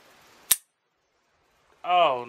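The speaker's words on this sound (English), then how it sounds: "Been a minute since I shot this revolver." One sharp, loud crack from a revolver loaded with nail gun blanks, fired outdoors, stands alone in quiet before a voice starts talking near the end.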